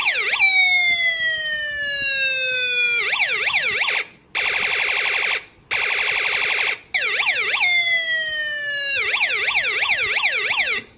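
A DIY four-tone electronic music generator circuit cycles through synthetic siren patterns, rising wails and fast warbles with brief gaps, loud and continuous with no talk.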